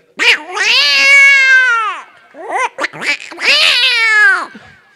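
A person mimics cats with two drawn-out, wavering meows separated by a few short chirpy mews, loud and close, with no other sound.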